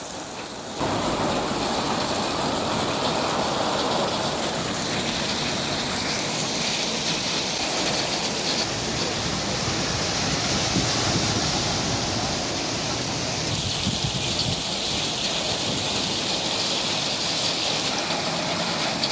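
Heavy rain pours down in Bahrain as a dense, loud, unbroken rushing hiss of falling water that begins after a brief quieter moment and holds steady throughout.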